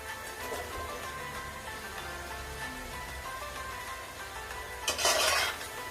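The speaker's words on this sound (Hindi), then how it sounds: "मैं अब इसके अंदर पोटैटो डालूंगी" Cubed potatoes, about a kilogram, are tipped into a pan with cooking spinach, giving a soft background sizzle and faint scraping, then a short burst of louder clattering and stirring near the end.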